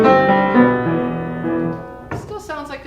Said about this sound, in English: So I'm playing something that partners with the folk song melody